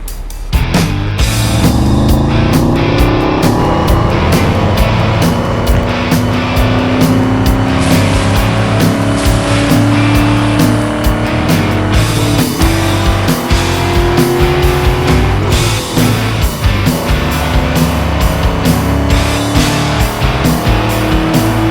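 A Hummer H2 SUV with a 6-litre V8 engine drives steadily and loudly nearby, its deep engine drone continuous throughout with tire noise and brief surges of revving.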